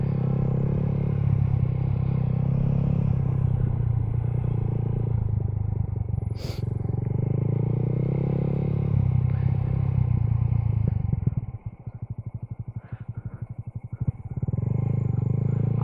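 A motorcycle ridden by a rider practicing wheelies, its engine rumbling steadily up close with a long continuous drone, a brief sharp clatter midway and a rougher, choppier stretch near the end before the engine smooths out again.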